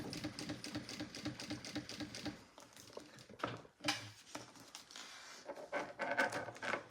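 A Kingmax sewing machine stitches through thick material, its needle producing a quick, steady mechanical chatter that pauses briefly midway and then resumes, close by and moderately quiet.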